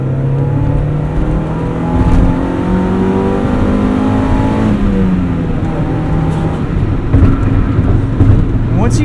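A 1996 Mazda MX-5 Miata engine revs up through the gears while driving, rising and falling engine tones loud inside the cabin, with people talking over it.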